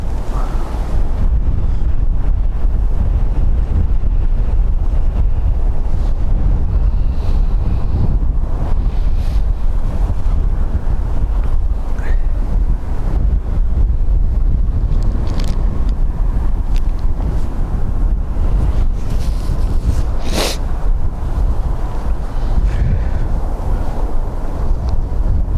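Strong wind buffets the microphone at Dublin Airport, a loud, continuous rushing roar with gusty swells and no voices.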